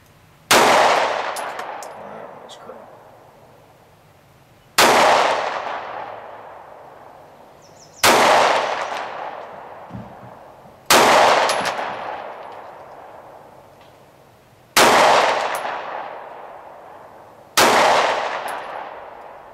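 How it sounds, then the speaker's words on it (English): Six sharp, loud pistol shots from a Beretta Nano, spaced a few seconds apart, each a crisp crack with a decaying ring-out at an outdoor range. "Well, I did manage to get 8 rounds out of it"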